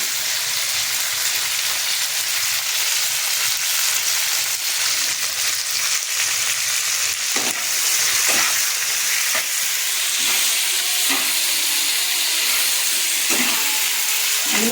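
Chopped tomatoes and green chilies fry with reddened onions in a hot pan for a bhorta, giving a steady loud sizzle with intermittent scraping stirs, no talk.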